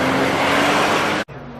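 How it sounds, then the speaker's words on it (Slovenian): A Porsche sports car races past at a hill-climb event, a loud close engine roar building then cutting off abruptly as it passes, followed by quieter ambient noise. "to je športni avtomobil, o katerem smo govorili Porsche"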